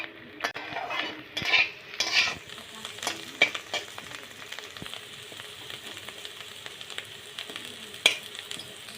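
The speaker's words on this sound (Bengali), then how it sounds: "উচ্ছেগুলো ভালো করে ভেজে নিতে হবে।" Bitter gourd frying in a pan, a steady low sizzle broken by a few louder scrapes and clinks as the slices are stirred, with no one talking.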